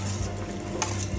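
Spoon stirring pachadi, a Kerala sadhya side dish, in a bowl, giving a soft continuous scraping with a couple of brief clinks, steady and close.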